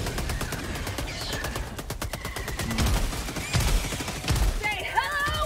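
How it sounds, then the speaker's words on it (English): An airstrike in the Helldivers game hits as a rapid string of sharp impacts and gunfire-like cracks with deep thuds, continuous and fairly loud, with electronic game tones near the end. "Oh, airstrike."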